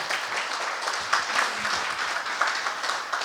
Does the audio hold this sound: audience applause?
yes